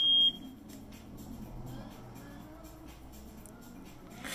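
A Macurco CM-1XLS carbon monoxide detector emits a single short, loud electronic beep as it enters self-test, followed by quiet room hum.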